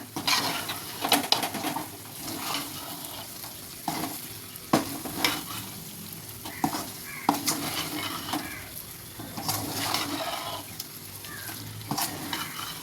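Drumstick and brinjal poriyal with grated coconut is stirred in a pan: a steady sizzle with repeated sharp scrapes and knocks of a spoon against the pot, and no talk.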